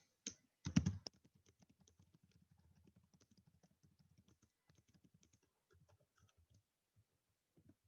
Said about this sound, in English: let me just type that up